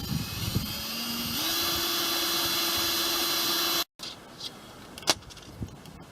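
A power drill bores a hole in front of the clutch pedal of a Land Rover Defender, a steady motor whine that rises in pitch once the bit bites, then cuts off, followed by a few light knocks.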